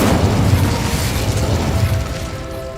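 An Incendio fire spell in Hogwarts Legacy erupts as a loud, dense rumbling blast that fills the whole moment and then slowly thins out.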